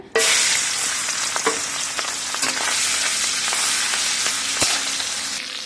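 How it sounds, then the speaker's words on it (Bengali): Bada fish hitting hot mustard oil in a pan give a loud, close, continuous sizzle, with crackling pops scattered through it. "এখানে সরষের তেল দিয়ে দিয়েছি, দেখুন এখানে তেল গরম হয়ে গেছে। বাদা মাছগুলো দিয়ে দিচ্ছি।"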